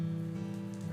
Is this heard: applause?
no